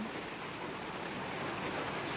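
Heavy rain pours down during a typhoon in Lopez, Quezon, a dense, steady hiss of falling water that stays constant and fairly faint throughout, with no voices.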